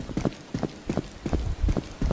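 Loud, evenly spaced footsteps in the horror video game The Mimic, about eight heavy thudding steps in a steady walking rhythm, close and prominent with no talk.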